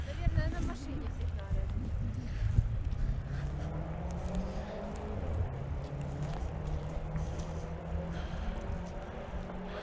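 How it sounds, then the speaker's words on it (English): A passing tugboat's engine drones low and steady on a river in Kherson, Ukraine, while people talk over it, with wind and general outdoor noise around. "Just in time to see a tugboat going past."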